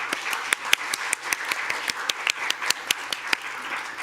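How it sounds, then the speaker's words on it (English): Applause from a sizable audience at an international parliamentary seminar, steady overlapping claps with sharper individual hits standing out, sustained for several seconds without speech. "let's give them a big hand of applause one last time."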